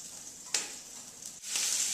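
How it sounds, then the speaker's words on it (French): Pieces of lamb neck browning in hot oil in a pan give off a steady, fairly quiet sizzle, with a sharp crackle midway and a louder, brighter surge of frying near the end. "nous allons faire revenir le collier d'agneau"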